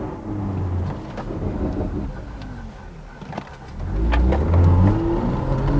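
BMW M2 with the N55 engine revving after a downshift, its valves opening for a loud, rumbling burst that builds toward the end over rough road and cabin noise, with a few sharp pops scattered through.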